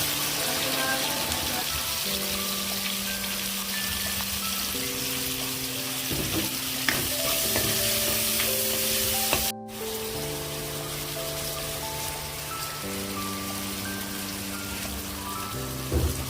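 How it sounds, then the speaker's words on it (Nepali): Onions fry in hot oil for a Nepali-style jackfruit curry, a continuous crackling sizzle running the whole way under louder background music with sustained tones. "तेलमा प्याज राख्ने। प्याज एकछिन पाक्छ।"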